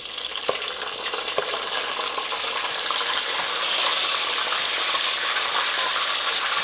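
Red snapper and green onions frying in a pan of oil, giving a steady, close sizzle that swells slightly partway through, with no voices.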